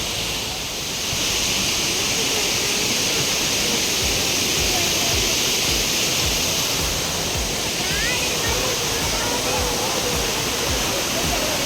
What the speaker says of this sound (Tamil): இதுதான் ஃபைனல் அருவி.